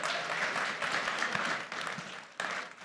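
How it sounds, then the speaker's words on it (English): An audience at the ETHDenver 2023 conference applauds a panel, a dense, even clatter of many hands at moderate loudness that dips briefly near the end. "just a round of applause for them making the time"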